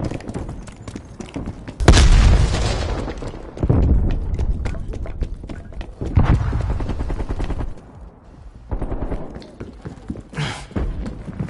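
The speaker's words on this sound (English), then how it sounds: "Throwing grenade!" Video game combat with a grenade going off: several sharp blasts and bursts of rapid gunfire, loud and close, separated by short lulls.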